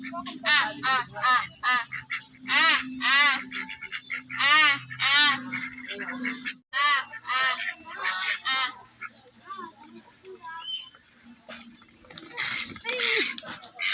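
Ducks quack in rapid, excited bursts close by, loud and repeated, with people talking in between.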